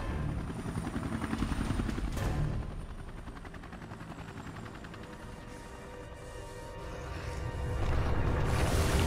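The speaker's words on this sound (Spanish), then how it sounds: "Te cubro desde el helicóptero." Helicopter rotor noise from the final boss fight against Alex Wesker in Resident Evil Revelations 2, a steady loud chopping drone with dense gunfire-like bursts layered over it throughout.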